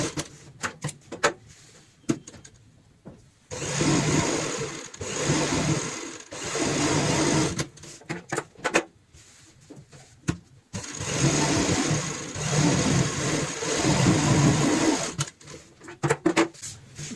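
Domestic sewing machine stitching a fabric cushion cover, steady whirring runs of several seconds broken by short pauses and clicks, close and fairly loud.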